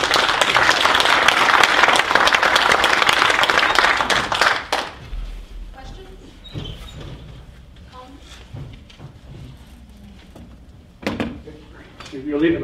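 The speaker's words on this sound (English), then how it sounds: "Let's give Ken a round of applause" An audience at a local food presentation at Sheridan College claps for the speaker in a burst of applause lasting several seconds, then fades into room clatter, scattered claps and murmuring voices.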